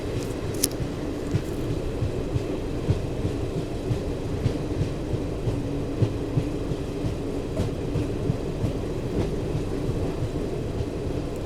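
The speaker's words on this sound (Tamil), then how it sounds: "நம்மளோட ட்ரெயின் இப்போ பார்த்தீங்கன்னா காயங்குளம் ஸ்டேஷனுக்கு வந்து ரீச் ஆகிருக்குங்க" The Garib Rath AC express rolls into Kayamkulam station with a loud, steady low rumble and repeated wheel clicks over rail joints, heard from inside the coach with no talk.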